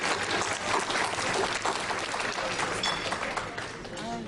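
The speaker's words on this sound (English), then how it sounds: "Let's give them a well-deserved round of applause." Applause fills a large gala hall at the 2014 KCC gala show, dense and steady clapping from the audience lasting the full stretch with a few faint voices mixed in.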